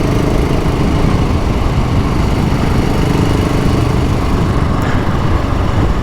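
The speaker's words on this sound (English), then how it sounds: "So it's a very tractable engine, this here Rotax 650." A BSA Goldstar motorcycle with a liquid-cooled Rotax 650 single-cylinder engine idles close by outdoors in the countryside, a steady, loud low thumping chug that continues evenly throughout.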